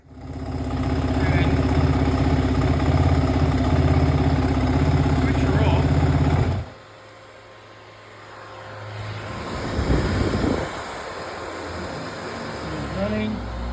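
Kawasaki KLX450R motorcycle engine idling close with an electric cooling fan, a loud steady hum that cuts out abruptly partway through, then quieter fan whir and brief rustling, with voices present.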